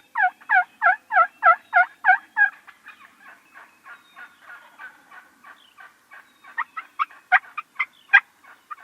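Wild turkeys gobbling on a Kansas hunting property, roughly 200 yards away: a rapid run of loud rattling gobbles, then a softer stretch of quieter calls, then more sharp gobbles near the end, with no talk.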